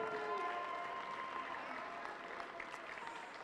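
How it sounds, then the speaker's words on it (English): An audience at a college sports event for the Raptors applauds throughout, with a faint, steady patter of clapping and a bit of cheering and crowd voices mixed in. "let's give a big round of applause and a big welcome to your 2022 Raptors women's volleyball team"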